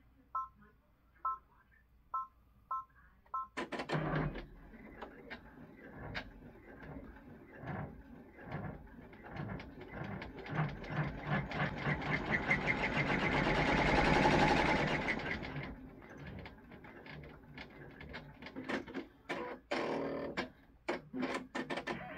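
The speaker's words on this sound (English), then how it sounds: "you want to run the first placement stitch for the first light" An embroidery machine stitches a bean-stitch appliqué placement line on a reindeer-with-lights ornament, starting after a few short beeps, a close rapid mechanical chatter that swells and eases, ending in a few separate clicks.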